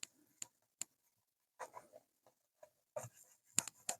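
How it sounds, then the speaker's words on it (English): A rag cut from an old t-shirt wipes the Bakelite cabinet of a 1950s Murphy U198H radio, making faint, close scattered rubs and soft scuffs with quiet gaps between strokes. "Let's just give it a little bit of a wipe down."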